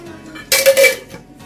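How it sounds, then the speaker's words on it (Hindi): A spoonful of ghee goes into a pan, giving a brief metallic clink and scrape of spoon against the pan, close and fairly loud, followed by a short hiss that fades. "इसमें डालेंगे हम 1 चम्मच घी।"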